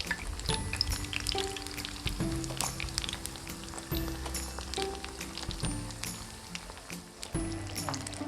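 Turon rolls filled with jackfruit and apple fry in a shallow layer of oil, giving a steady close sizzle with scattered crackles and occasional soft knocks from handling, with no talking.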